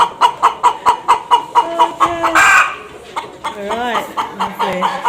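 Indonesian black chickens cluck in a steady run of short calls with a crow rising partway through, close and lively, while people talk over the birds.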